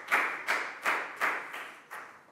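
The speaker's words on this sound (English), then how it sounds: "Big round of applause for Lakau." A Year 4 science class claps for a student in about six slow, evenly spaced, fairly soft bursts, each fading before the next, with no talking.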